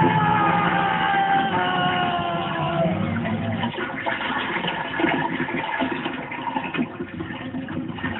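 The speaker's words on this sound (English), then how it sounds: "it's time to flush Sid the Sloth down the toilet" A toilet flushing, a loud rushing gurgle of water that gradually settles into a quieter swirling refill, heard close with no talking.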